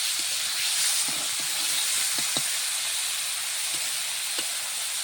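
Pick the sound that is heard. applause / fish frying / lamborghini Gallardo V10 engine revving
fish frying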